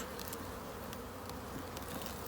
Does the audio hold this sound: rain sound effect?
no